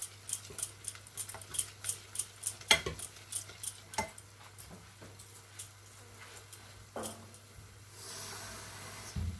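Satay sauce with yellow curry being stirred in a pot: a quick run of soft regular scrapes and clinks of a utensil against the pot, then sparser taps and a faint hiss, all quiet and close.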